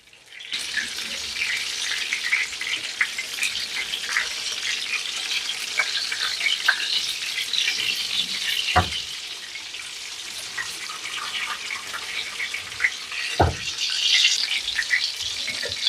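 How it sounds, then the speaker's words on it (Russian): Chicken cutlets fry in a pan with a bright, continuous close sizzle, dense crackling and spitting throughout, punctuated by a couple of sharp knocks partway through, with no talking. "пока жарятся котлеты"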